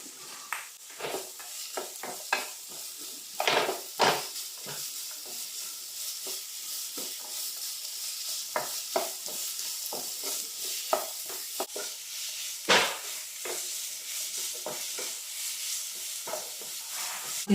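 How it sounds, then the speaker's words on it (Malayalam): Carrot and capsicum sautéing in a pan, with a steady close sizzle broken by frequent scraping and stirring taps and no talking. "ഇതെല്ലാം ഇവിടെ നമുക്കൊന്ന് വഴറ്റിയെടുക്കാം."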